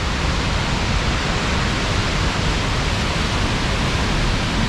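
A flooded waterfall in Tennessee pours with a dense, constant roar of rushing water heard up close, steady and loud without a break, and no one speaks.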